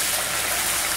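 Water from a glass poured into a pan with semolina for kesari bath, a steady loud rushing splash that fills the whole second without pause.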